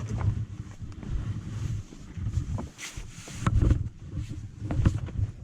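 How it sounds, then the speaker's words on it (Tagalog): Outdoor wind on a mountain at Djevelporten, Lofoten, Norway, rumbles low and steady with gusty swells, a few faint knocks and rustles over the airy roar. "Dito may hangin pa naman kaya okay lang ako."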